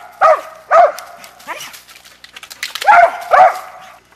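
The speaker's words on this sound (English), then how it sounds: "That's Goldie, the little pup out of him." A young hunting dog barks near a squirrel den in the woods: five or so sharp, close barks in an uneven rhythm, loud and clear with quiet gaps between them.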